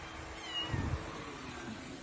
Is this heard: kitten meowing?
yes